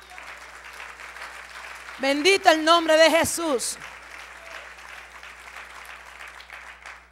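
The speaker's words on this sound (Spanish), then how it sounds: "Denle un aplauso a Jesús." A church congregation applauds for Jesus, clapping running throughout while a voice exclaims loudly over it midway before the applause carries on alone.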